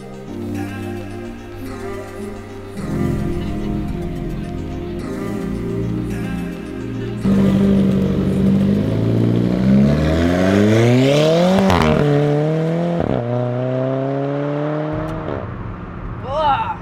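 Alfa Romeo 4C coupe engine pulling hard while driving in the UK, rising through revs in several climbing sweeps with quick gear shifts, loud and close from inside the car, without talking.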